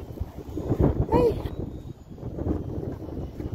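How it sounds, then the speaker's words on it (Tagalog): Wind gusts buffet the microphone outdoors, a low rumbling roar that rises and falls under people chatting nearby. "Natunog yung hangin."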